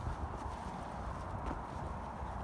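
Horse hooves clip-clopping near an abandoned hospital, a dull continuous muffled patter, fairly faint and low with no clear separate steps, no talk.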